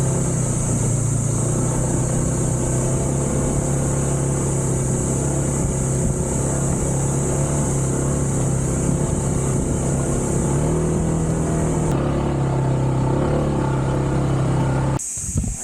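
A motorcycle engine labors steadily on the climb up Mt. Oro in Rodriguez, Rizal, a continuous loud drone with a held tone that shifts slightly as the ride goes on, then cuts off abruptly near the end.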